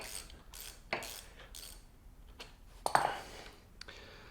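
A deep socket ratchet works on the drain plug of a 2019 KTM 250 EXC TPI dirt bike, giving a few short ratcheting clicks and then a sharper metallic turn near the end. The sound is close and fairly quiet, with no talking.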